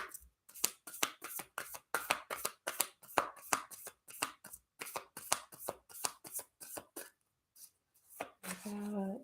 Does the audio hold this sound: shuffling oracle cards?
yes